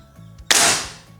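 A single sharp shot from a Ruger Morgan A1 air rifle, close and loud with an abrupt crack and a short hissing decay, heard alone.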